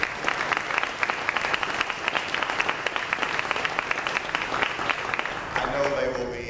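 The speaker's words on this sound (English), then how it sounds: "Give them a round of applause for" Audience applause at a governor's press conference, sustained dense clapping from a room of people at a steady level, easing slightly near the end as a faint voice begins.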